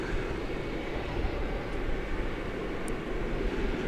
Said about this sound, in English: It's Flight 392 coming in from Portland, Oregon, 737-900.